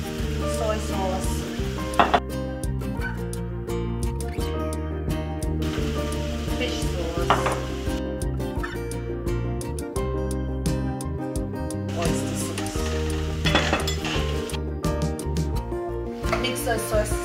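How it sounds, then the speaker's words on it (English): Fried rice with mushrooms and sauces being stirred in a hot pan, steady sizzling and scraping under background music throughout. "Mix those sauces in well with the rice."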